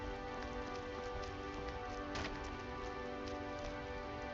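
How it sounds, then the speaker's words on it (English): Steady rain falling on the ground in the video game Skyrim, a constant even patter throughout with no talking. "You can hear the rain on the ground."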